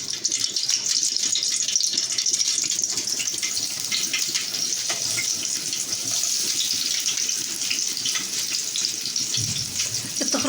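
Tap water pours steadily as vegetables are rinsed for stuffed-vegetable mahshi, making a dense, continuous splashing rush close by. A brief thump sounds near the end, with no talking.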